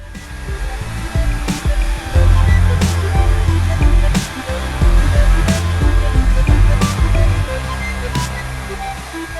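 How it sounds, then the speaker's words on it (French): A hair dryer blows a loud, continuous rush of air while drying curly hair, its pitch and force shifting slightly as it is moved, with periodic soft clicks and no speech. "Je peux utiliser un diffuseur, séchoir, whatever."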